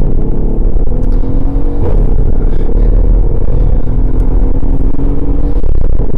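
Mercedes-AMG GLS 63 SUV, a 670 hp tuned example, accelerating hard from a standstill, a loud deep engine roar rising steadily in pitch throughout, heard from inside the cabin with no talk.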